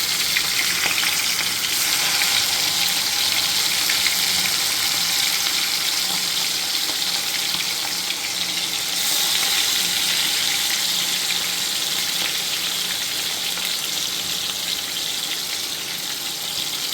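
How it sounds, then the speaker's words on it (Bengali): Marinated chicken pieces fry in hot white cooking oil, making a loud, dense, continuous sizzle that holds steady from start to finish. "এইবার ম্যারিনেট করা চিকেনের টুকরোগুলো আমি দিয়ে দেব, দিয়ে ভেজে নেব"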